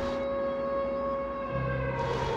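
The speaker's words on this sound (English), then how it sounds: "As that siren starts, all of Israel stops for 2 minutes, bow their head, and respect the silence." Israel's Yom HaShoah civil defense siren sounds as a steady, sustained wailing tone, loud and continuous, with a lower second tone joining partway through.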